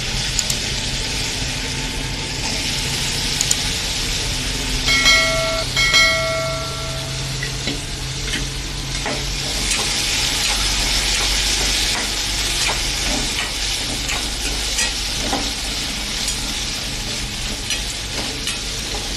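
Potatoes frying in a pan for moreya khichdi, a steady close sizzle with occasional scraping and stirring clatter from a utensil, continuing without pause.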